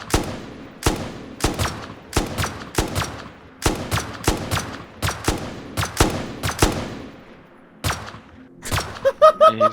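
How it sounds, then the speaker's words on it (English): Gunfire from a weapon in the video game Rust: a long run of sharp, echoing shots in uneven bursts, loud and close, ending in a rapid cluster of quicker shots, with no talk over it. "I'm gonna shoot him with my roleplay gun."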